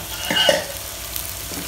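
Onion and cabbage sautéing for chicken fried rice, a brief close sizzle with a couple of quick stirring scrapes and a short squeak from the pan.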